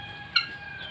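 A single short cluck from a curly-feathered chicken (ayam keriting) on a poultry farm, brief and fairly clear over a quiet background hum.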